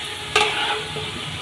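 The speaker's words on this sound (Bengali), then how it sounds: "এখন আমি আলুগুলো ভালো করে ভেজে নেব।" Potatoes fry in hot oil in a pan, giving a steady, close sizzle, with one sharp stirring clatter early on.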